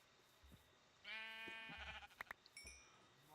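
Sheep bleating in the video game Minecraft: a wavering, drawn-out bleat at moderate distance, followed by a few short clicks and game sounds, with no talk.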